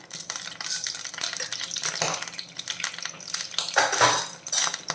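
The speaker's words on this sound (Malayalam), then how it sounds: "നമുക്ക് 1 ടീസ്പൂൺ കടുക് ഇട്ട് കൊടുക്കാം. അത് കഴിഞ്ഞിട്ട് 1 ടീസ്പൂൺ ഉഴുന്ന് പരിപ്പിട്ട് കൊടുക്കാം." Mustard seeds and urad dal in hot coconut oil, with crackling sizzle and spattering mixed with clinks of a metal spoon against the pan, close and continuous.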